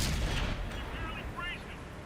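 A tank cannon shot in World of Tanks lands as a heavy, booming blast at the very start, then decays into a rumbling tail with faint ringing.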